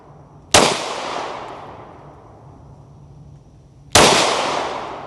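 Two loud, sharp gunshots from firearm shooting training, several seconds apart, each with a long fading echo across an outdoor range and no talk over them.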